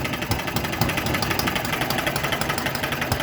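A Microcosm M93 (Eachine ET8) model engine runs steadily, its valve gear working with a fast, even mechanical clatter, loud and close, with no talk over it.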